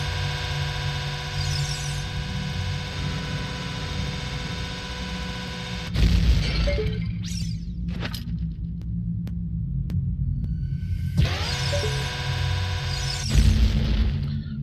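Explosions in Zelda: Ocarina of Time, loud booming bursts at about six and thirteen seconds, set over a steady throbbing in-game hum and music drone with occasional sharp ticks.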